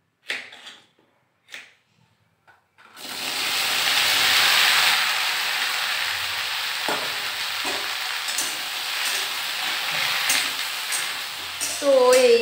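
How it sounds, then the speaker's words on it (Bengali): Okra (bhindi) frying in a pan on a home stove, a steady loud sizzle that sets in after a few brief knocks and continues for about nine seconds, with occasional clatters and a short voice near the end. "এইদিকে আমার ভেন্ডি ভাজা হচ্ছে"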